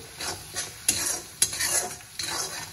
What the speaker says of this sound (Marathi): आता हे आपण 1 मिनिट छान असं भाजून घ्यायचं आहे, परतून घ्यायचं आहे